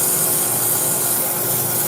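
Sandpaper rubbing against spinning wood on a lathe, a steady close hissing scrape with a constant motor hum underneath, unbroken and even throughout.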